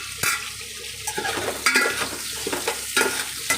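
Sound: vegetables frying in oil for sambar

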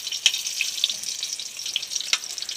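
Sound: garlic sautéing in a pan

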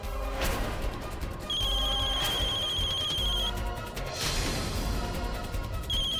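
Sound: phone ringtone

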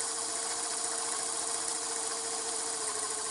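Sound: excavator EO-4321 engine revving to drive hydraulic cylinders

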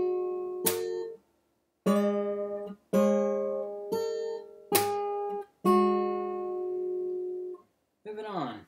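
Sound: fingerstyle guitar passage played slowly

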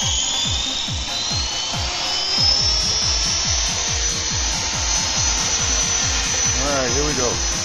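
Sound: RC helicopter flying

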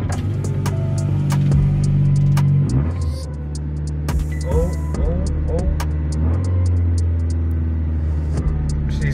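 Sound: car engine running after a cold start

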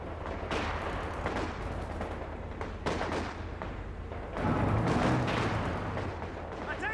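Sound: machine gun fire in Company of Heroes 2 video game

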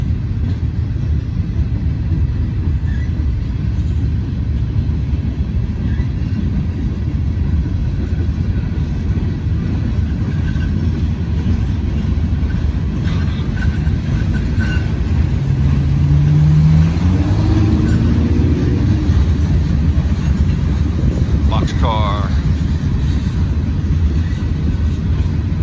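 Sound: freight train locomotives pulling a heavy steel coil load

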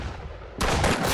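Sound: gunfire in the Roblox game Arsenal

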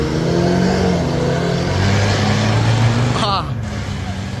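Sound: Toyota Hilux engine revving with straight pipe exhaust

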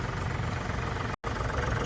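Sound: Arjun 605 tractor engine idling

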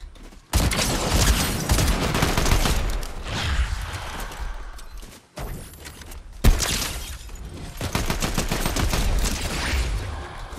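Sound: gunfire in Fortnite Zero Builds video game

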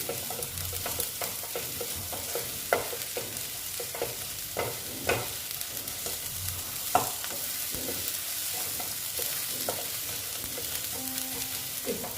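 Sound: fish curry masala being stir-fried in a pan

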